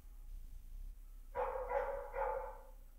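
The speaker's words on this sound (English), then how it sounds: "the volume of all of the dogs barking in the shelter is often overwhelming" Several dogs bark in an animal shelter, distant and somewhat faint, in a few overlapping bursts that start partway through against a quiet background hum.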